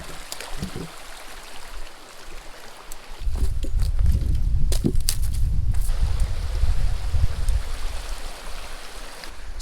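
A trout stream flows with a steady broadband rush close by, and a deeper rumbling surge joins partway through under scattered clicks.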